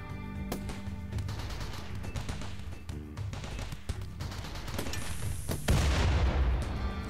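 Automated defensive turrets firing at raiders in the colony game Rimworld: steady rapid shots and sharp cracks over a busy combat mix, building to a louder burst of booming fire in the final seconds, with no talking.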